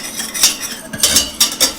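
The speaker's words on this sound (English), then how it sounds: "And once again, we're going to whisk this" A whisk clinks briskly against a bowl while mustard powder and garlic powder are beaten into a dill dressing for coleslaw, several quick metallic scraping strokes in bursts, close and clear.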